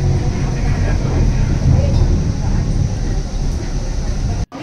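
Inside a moving Bengaluru Namma Metro train car, a loud, continuous low rumble and rolling noise runs steadily with no break until a sudden cutoff.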